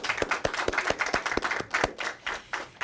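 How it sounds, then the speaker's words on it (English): A small group applauds after a competition match, its claps sharp and fairly close, keeping a quick, uneven rhythm for a few seconds. "Round of applause for yourself."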